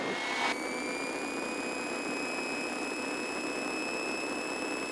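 A Piper Seminole twin-engine trainer runs its engines up to 2,000 RPM, a steady, loud, droning roar with a high whine held evenly throughout, and no voices are heard.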